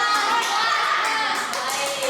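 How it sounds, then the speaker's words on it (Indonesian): Classroom of children clapping for a student group, a dense steady patter of many hands lasting throughout, with young voices mixed in. "tepuk tangan dulu untuk kelompok 2."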